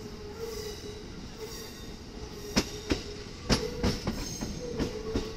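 A train rumbles along the tracks with a steady low roar, punctuated by sharp metallic clacks and squeals as the wheels pass rail joints.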